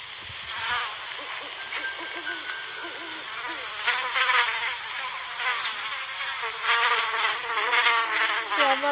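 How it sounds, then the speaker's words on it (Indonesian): A dense, continuous swarm of buzzing bees in a Roblox game, rising and falling in intensity, with no voices. "Suara lebah banyak banget."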